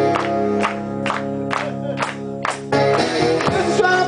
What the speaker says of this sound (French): Plus fort, allez, dans le fond aussi, on tape dans les mains.